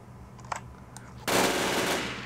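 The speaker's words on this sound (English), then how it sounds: "Reload my super machine gun thingy" Automatic machine gun fire in the Blockland video game, a sustained loud burst of rapid shots after a few faint clicks and taps.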